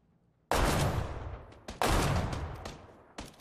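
Shotgun fire in PlayerUnknown's Battlegrounds: two loud, close blasts about a second apart, each with a long ringing tail, followed by a few smaller sharp pops.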